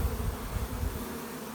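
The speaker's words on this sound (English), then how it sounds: "Got a few bees clustered right here at the top." Honey bees clustered at the top of a chimney hive give off a steady, dense buzzing hum up close, with no voices over it.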